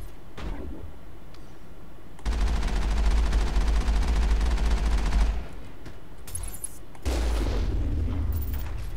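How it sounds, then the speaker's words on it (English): Sustained gunfire in the video game Mass Effect, a dense, loud fusillade of rapid shots that runs for a few seconds, stops, then bursts again with sharp impacts and a high ping. "Something's shooting."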